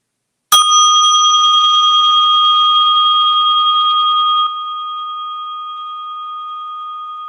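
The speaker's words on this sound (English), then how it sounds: "rest your attention lovingly, gently on the sound of this bell" A single bell is struck once and rings out clear and steady, sustaining for several seconds alone in silence.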